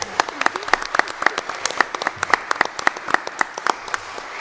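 Audience applause at a town hall meeting, a steady burst of close, crisp individual claps from a modest crowd, sustained evenly with no talking over it.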